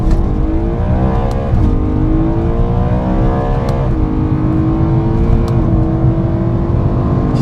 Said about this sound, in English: Just never get bored of the sound of that engine